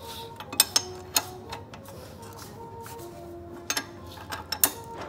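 A Peugeot 206 engine turned over by hand at the flywheel during valve adjustment: close metallic ratcheting clicks and clunks in two short clusters, with a quiet mechanical hum between them.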